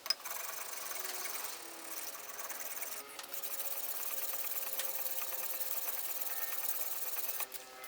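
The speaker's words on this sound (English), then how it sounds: "now I'm going to clean that edge up with a sharpening stone" A sharpening stone cleans up the edge of a wood-turning tool held between two pieces of wood, giving a steady, continuous rasping rub close by with a brief break near the middle and no talk.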